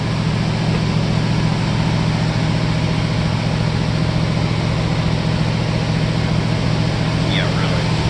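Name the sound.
opened engine being started and revved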